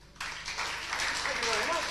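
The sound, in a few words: audience applause for Ben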